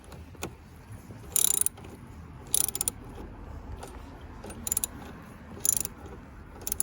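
A ratchet wrench loosens the bolt on a car battery's negative terminal, short bursts of rapid clicking repeating four or five times at close range over a low background hum.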